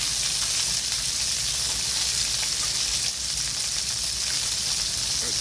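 Chicken pieces fry skin side down in a Teflon frying pan over low heat, giving a steady, close, even sizzle that hisses on without a break and with no talking.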